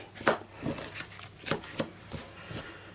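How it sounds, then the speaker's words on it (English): Cards from the Heroes of Terrinoth board game being shuffled by hand, a quick run of close, crisp riffles and slaps in irregular bursts, with no talking. "3 of those, so let's shuffle them a bit about."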